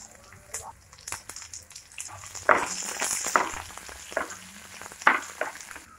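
Small chopped onion sizzling and frying in a pan for a chutney, with spatula stirring clicks and bursts of crackling at moderate volume, close up.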